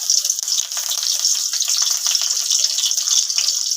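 Green and dried red chilies hit hot oil in a kadai, giving a loud, steady crackling sizzle that holds close and even throughout.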